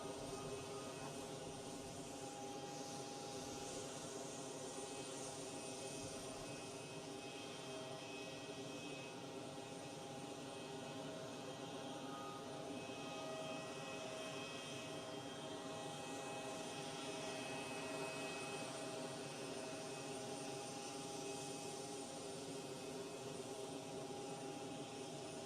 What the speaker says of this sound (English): And then I believe this one is Royal Jordanian Airbus